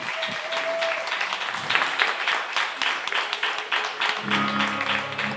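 A live crowd claps for the opening act at a radio music show, steady applause with a few sharp hand claps near the start, moderately distant.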